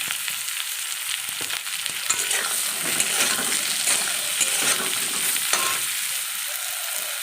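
Onion and eggplant sizzle steadily in a wok as they fry and are stirred, a loud, continuous hiss punctuated by scraping and clinks of the spatula, with no talking.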